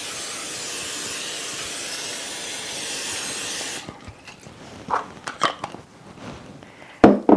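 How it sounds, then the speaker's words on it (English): Cooking spray hisses onto a baking pan in one long, steady burst of close aerosol spray before a dish of apple filling and spice cake mix is assembled, followed by a few faint clinks and handling knocks. "I'm going to spray my pan."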